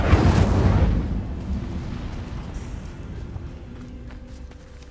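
A fiery burst from the Incendio fire spell in Hogwarts Legacy, loud and roaring at the start and then fading into a long, low rumbling tail with no other sound over it.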